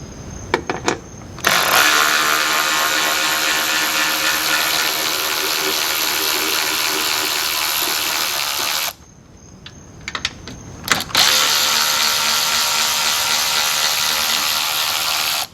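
HART 20-volt 3/8-inch cordless ratchet running in loud, continuous bursts: a long whirring run, a short pause with a few clicks, then another sustained run close to the mic.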